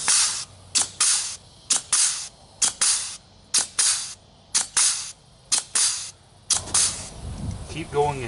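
Grease gun pumping grease into a trailer axle hub, a run of about a dozen sharp hissing spurts in a regular rhythm, close and loud, followed by a softer rustling squelch at the end.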